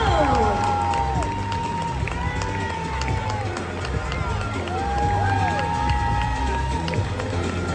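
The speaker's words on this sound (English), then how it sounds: "please keep your applause going for Amanda Gill and Jodie Whittaker of Doctor Who" A crowd at a Doctor Who comic con panel keeps up continuous applause and cheering with shouts and whistles, while music or voices run through the noise at a steady, loud level.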